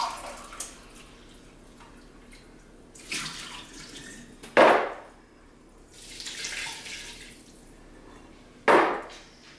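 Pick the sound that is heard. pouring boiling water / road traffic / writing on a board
pouring boiling water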